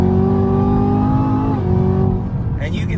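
Chevrolet Camaro ZL1 muscle car in a driving game, engine revving hard under acceleration with a rising whine that drops off near the end, a voice talking over it.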